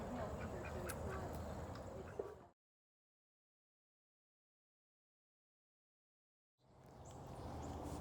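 Ducks quack in a yard where a horse is also kept, a close burst of honking calls, then a stretch of silence before the quacking picks up again.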